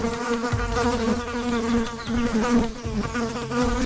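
Tiny fig wasps buzz around fig flowers in an Indian tropical forest, a loud, continuous insect drone with a steady whine.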